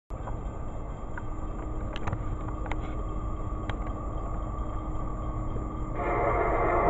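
A train rolls steadily past at close range, a continuous loud rumble of wheels and cars with faint squeals, growing heavier near the end, with no voices.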